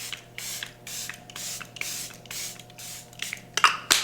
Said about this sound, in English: Then I set it with my Charlotte Tilbury setting spray.